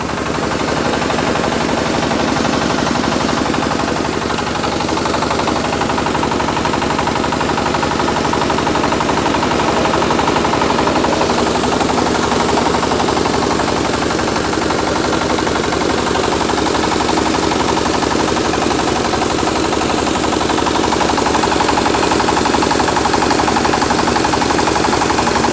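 A Maktani MT212 rice milling machine runs loudly and continuously, with a dense rattling, knocking drone that holds steady throughout.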